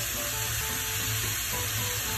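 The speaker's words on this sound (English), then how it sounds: "I'm going to cook it in its own oil and fat." Minced meat frying in a pan in its own fat with no added oil, a loud steady sizzle throughout with faint scraping as it is broken up.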